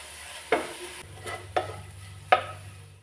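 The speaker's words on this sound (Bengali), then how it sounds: "এটা ভালো করে নেড়ে চেড়ে আঠালো একটা পুর তৈরি করে নেব।" Grated coconut and jaggery stirred in a pan for a sweet filling, with three distinct spoon scrapes over a low sizzle.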